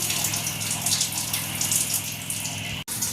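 Water poured steadily onto rice in a pot for basanti pulao, a continuous close gushing splash that cuts off abruptly near the end.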